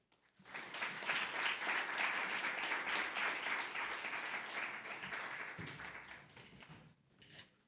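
Sustained audience applause welcoming a speaker to the stage at an antitrust policy forum, a dense wash of clapping that swells quickly, holds steady for several seconds and then fades near the end.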